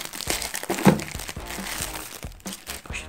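A plastic bag is pulled out of the box of a new reeder P10s phone during unboxing, giving a run of close crinkling and rustling with one sharper crackle near the middle.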